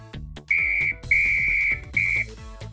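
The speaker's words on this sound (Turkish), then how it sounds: "Bir de düdük var." Three shrill whistle blasts, a short one, a longer one, then another short one, sounding loud and near over faint background clatter.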